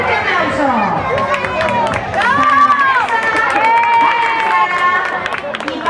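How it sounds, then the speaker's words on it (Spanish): Spectators at a night-time children's race cheer and clap for the winners, a lively mix of shouting children, chatter and applause sustained throughout. "¡Fuerte aplauso!"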